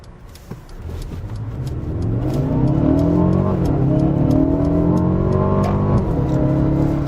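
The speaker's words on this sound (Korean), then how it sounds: "스포츠 모드를 먼저 선택을 했는데요. 엔진 소리가 제법" A Mercedes-Benz CLA 250 4MATIC in sport mode pulls hard on the road, its engine note climbing steadily through revs, dropping at a shift, then rising again, loud and close with no talk.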